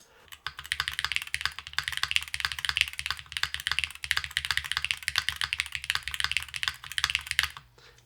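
Rapid, steady typing on a Hall-effect mechanical keyboard fitted with PCB snaps, a dense stream of close, crisp key clacks running nearly eight seconds alone before stopping abruptly.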